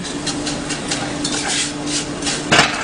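Noodles being stirred as they lightly brown in a pan, a steady run of scraping and clinking utensil-on-pan strokes close by, with a louder clatter near the end.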